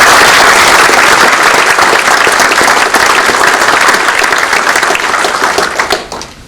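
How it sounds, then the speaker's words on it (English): A large audience at a Navy Command Master Chief retirement ceremony gives a loud, sustained round of applause that fades away near the end. "give those guys a round of applause"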